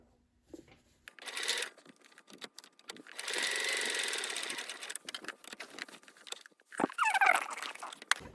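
A sewing machine stitches a loop on the back of a garment, giving short, close mechanical bursts with one longer steady run, set among handling rustles and light clicks.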